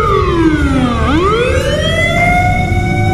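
A fire engine siren wails at close range as the truck arrives at a burning mosque, its rising and falling tone swooping down and back up over steady engine rumble.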